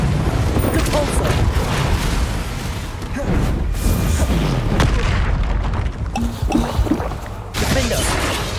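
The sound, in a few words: Depulso spell blast in video game Hogwarts Legacy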